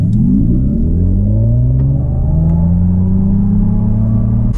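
A new 2027 Mercedes CLA 350 Shooting Brake accelerates hard from 0 to 60 mph: a loud, continuous engine rumble climbs steadily in pitch through the run, heard from inside the car with no talking.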